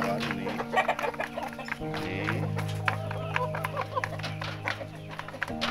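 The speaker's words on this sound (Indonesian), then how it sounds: "Nah ini ya, betina indio gigante kawan-kawan ini." Indio Gigante hen clucking close by in a Temanggung setting, short repeated clucks mixed with other fowl sounds while someone talks over them.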